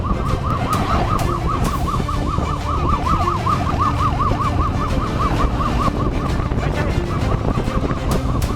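Police sirens wail during a motorcycle chase in Brazil, a rapid yelping siren cycling continuously over road and engine noise. It stays loud and close throughout, with a few sharp knocks along the way.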